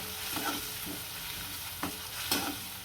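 Bitter gourd curry with onion gravy bubbles and sizzles in a pan, a continuous fry punctuated by several distinct stirring scrapes of a spoon, close and moderately loud with no voices.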